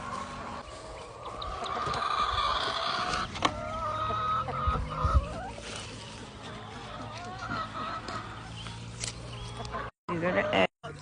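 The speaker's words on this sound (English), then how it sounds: "Chickens fighting over a chicken head." Chickens cluck and squabble over a chicken head in a homestead farmyard. The busy clucking and squawking carries under talk and ends with brief dropouts.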